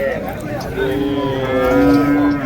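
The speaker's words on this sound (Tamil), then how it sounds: "நல்லா ஒரு பெரிய காளையை எடுத்துகிட்டு வந்திருக்காங்க பாருங்க." Big bull lowing at a rural cattle market in Orappam, Tamil Nadu, a long drawn-out moo rising and holding for about two seconds, loud and close over a busy background murmur of the market.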